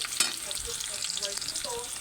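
Onion and garlic fry in hot oil for a bitter gourd and shrimp sauté, a brief close crackling sizzle with a sharp pop near the start and light spattering throughout.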